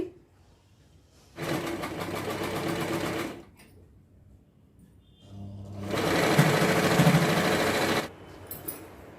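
A sewing machine stitches a homemade quilt made from reused sarees, two steady runs of close mechanical whirring separated by a quiet pause, with no talk over it.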